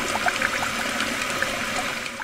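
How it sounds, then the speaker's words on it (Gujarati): Water runs steadily from a tap in an unbroken, fairly loud rushing stream with no pauses. "પાણી તો આવી ગયું"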